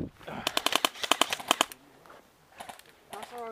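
Rapid bursts of airsoft gunfire at an outdoor skirmish at Tuddenham, with two quick strings of sharp snapping shots close by, then a few fainter shots, with brief voices between them.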